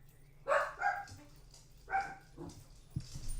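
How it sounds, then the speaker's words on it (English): Several dogs bark in short bursts at medium distance indoors, a few sharp yips and barks spread over a few seconds against a low steady hum. "You lot, stop barking."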